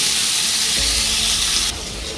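Kohlrabi pieces fry with turmeric and salt in a pan, giving a steady close hiss that drops to a softer sizzle near the end, with low stirring rumble underneath.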